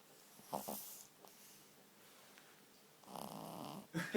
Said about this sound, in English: You're snoring, mate.